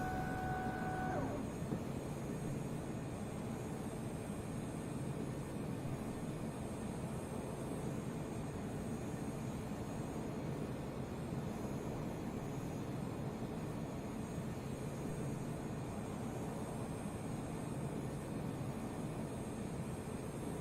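A steady, droning jet engine hum of the To-201 Shikra fighter in Arma 3 holds at an even level throughout, broad and constant with no pauses.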